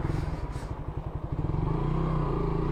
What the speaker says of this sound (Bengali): দেখছেন 8000 RPM-এ চলে গেছি, 31 স্পিড 1 গিয়ারে